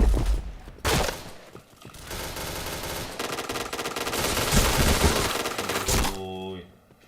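Rapid, loud gunfire bursts from the shooter video game Point Blank, with sustained automatic fire running for several seconds before fading out.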